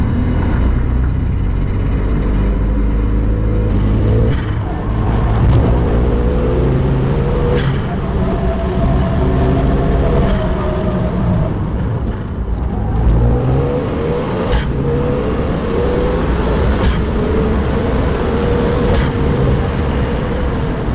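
A Renault Megane's engine revs and pulls steadily on the move for about twenty seconds, loud and close, with surges in pitch and occasional sharp knocks, no voices over it.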